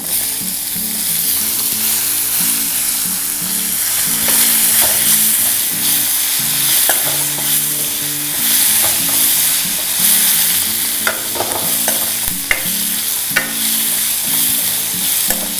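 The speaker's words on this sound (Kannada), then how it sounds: "ಈಗ ಇದಕ್ಕೆ ಈರುಳ್ಳಿಯನ್ನು ಸೇರಿಸ್ಕೊಳ್ಳಿ" Chopped onions fry in hot tempering oil, producing a loud, continuous close-up sizzle with frequent stirring scrapes and occasional sharp spatters.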